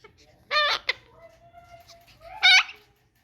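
A pet bird gives two loud harsh squawks about two seconds apart, close by, with faint indoor background noise and a soft whining tone between calls.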